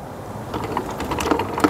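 Bolts are tightened on the mount of a solar LED street light during installation, giving close, irregular clicking and ratcheting taps over a low background rumble, with no voices.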